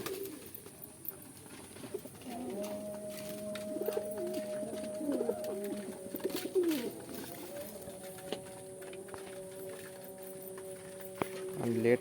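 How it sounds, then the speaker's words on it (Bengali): Pigeons in a farm loft coo and call at late feeding time, a steady close murmur of overlapping coos with scattered clatter and occasional bursts of wing and foot movement. "নতুন পায়রাগুলো আপনাদের দেখাচ্ছি।"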